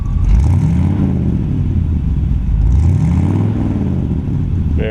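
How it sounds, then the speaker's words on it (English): A 1940 Ford Deluxe Woody Wagon retro-rod engine revs through Smitty mufflers and dual exhaust, a loud, close, throaty rumble that rises twice in quick blips over a steady idle. "Rev it up a little bit so you can hear the Smitties and the dual exhaust."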